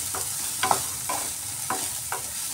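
Soy chunks fry lightly in a pan with a constant sizzle, while five or six stirring scrapes recur roughly every half second.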